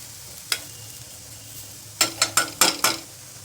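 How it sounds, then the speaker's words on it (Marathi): Urad dal roasting in a pan until crispy for vada pav, stirred so the utensil scrapes in a quick cluster of bright strokes after one earlier stroke, over a faint steady sizzle. "वडे खाताना डाळ अशी छान क्रिस्पी होईपर्यंत भाजून घ्यायची"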